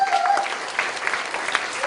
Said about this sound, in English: so please welcome him with a big round of applause.